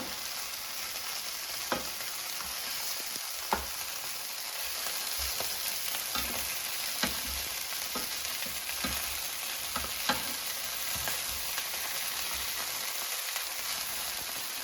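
Bratwurst sausages pan-frying on a stovetop give a steady close sizzle with scattered crackles and occasional knocks as they are turned, no voices.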